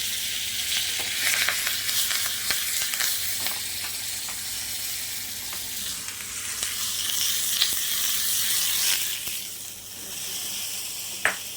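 Curry leaves sizzle and crackle in hot tempering oil for a pongal kuzhambu, a dense, steady frying hiss with scattered sharp pops, close up and with no talking.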